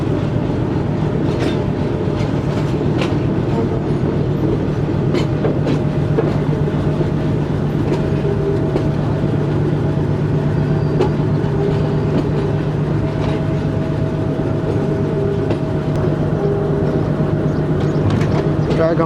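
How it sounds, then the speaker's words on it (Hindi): Rawalpindi passenger train 267 running on main-line tracks, a continuous loud rumble heard from on board with rhythmic wheel clacks and a steady low drone. "ये रही जी पूरी 267 अब रावलपिंडी पैसेंजर।"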